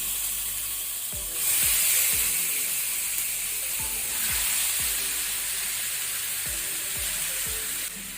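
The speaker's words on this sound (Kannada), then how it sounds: "ಎಣ್ಣೆ ಬಿಸಿಯಾದ ನಂತರ ನಾವು ಮ್ಯಾರಿನೇಟ್ ಮಾಡಿದ ಬೊಂಡಸನ್ನು ಹಾಕೋಣ." Marinated squid sizzles as it hits hot coconut oil in a pan, a loud steady frying hiss with periodic low knocks and scrapes from stirring; no one speaks.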